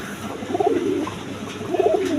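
Pigeons in a pair of breeding birds with chicks coo in low, throaty rolling phrases, two close cooing bursts with a faint hiss of background noise and no talking.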